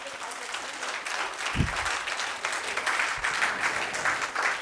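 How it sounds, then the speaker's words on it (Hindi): Steady applause from an audience at a direct-selling business seminar fills the clip, a dense wash of clapping with a couple of low thumps partway through. "एक बार शानदार तरीके से सबके लिए तालियां हो जाए, जबरदस्त, दोनों हाथों से"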